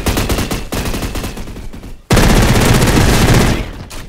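Automatic gunfire in the shooter game Energy Assault, two loud, dense bursts of rapid shots close up, split by a brief gap.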